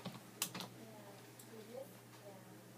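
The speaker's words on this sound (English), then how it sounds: "then you just type in the question." Computer keyboard typing, a brief flurry of soft, quiet key clicks at the start, followed by low indistinct sounds over a steady hum.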